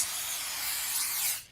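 A can of rat poison sprayed in an indie horror game set in a convenience store: one continuous hissing burst lasting over a second, then cut off, with no talk.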